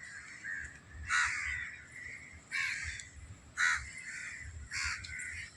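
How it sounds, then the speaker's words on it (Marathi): Several crows bathing in a garden caw in repeated harsh bursts, four or five calls spaced about a second apart, moderately near over faint background hum. "कावळ्यांची इकडं आंघोळ चालू आहे बघा."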